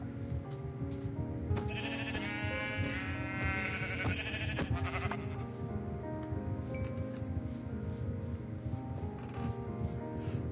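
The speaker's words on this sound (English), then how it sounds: "Oh, more sheep." Blocky sheep in a Minecraft world bleat repeatedly, several wavering cries overlapping in a busy mix of steady game music and background effects, moderately loud throughout.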